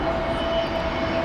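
An Airbus A321neo at London Heathrow Airport produces a steady, loud engine drone with a sustained tonal whine, heard alone without voices.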